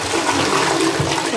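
A toilet flush loudly rushing away dirty cleaning water, a continuous close whoosh filling the whole moment.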